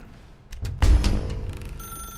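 Telephone ringing in the video game The Stanley Parable, a bright electronic ring that starts after a few soft knocks and thuds, moderately loud and heard without speech.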